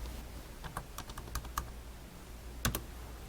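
Keys on a computer keyboard are tapped to enter data, a few quiet, close, irregular clicks with a quick double tap near the end.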